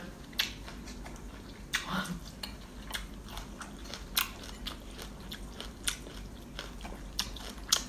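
Loud close-up eating of Thai khanom jeen rice noodles in spicy fish curry with pickled vegetables, with repeated crunchy bites and wet chewing sounds at an irregular rhythm and no talking.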